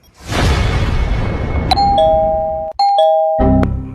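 An electronic doorbell chime rings loudly, a ding-dong tone repeating twice, after a burst of loud rushing noise.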